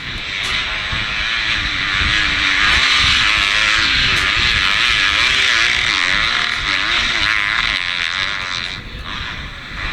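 A loud motorcycle engine roars steadily, its pitch rising and falling as it revs, close by and dominating the whole stretch.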